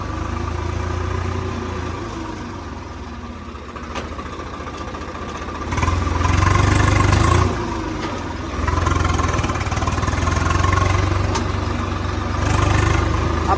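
A tractor engine runs steadily with a low chugging rumble, swelling louder twice as it seems to rev or draw nearer, no voices present, during the wheat harvest near a grain market.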